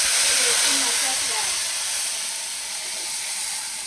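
Panch phoron spices fry in hot oil with a loud, steady hiss and sizzle throughout, close up.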